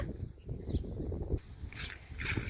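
A dog barks a few times at moderate distance, short sharp calls over a low background hum.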